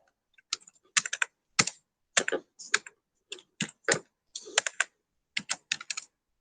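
Keys clatter on a computer keyboard as C++ code is typed, in close, crisp bursts of rapid clicks separated by short pauses, with no talking.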